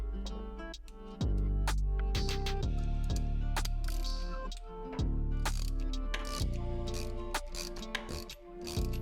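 Ratchet wrench with a 7/16 inch socket backing off the locking nut on a Graco sprayer swivel, a close, loud run of rapid metallic clicks in repeated strokes, each stroke ending in a low thud, with no voice over it.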